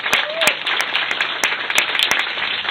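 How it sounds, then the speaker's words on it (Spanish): Audience at a book presentation clapping for a student named Fernando, a burst of moderate applause from a small crowd with a voice heard briefly at the start. "Un aplauso para Fernando."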